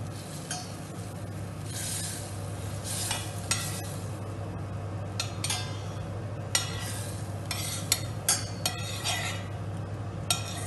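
Butter melts in a heated saucepan, making a soft continuous sizzle over a low steady hum, with occasional clinks and scrapes of a utensil against the metal.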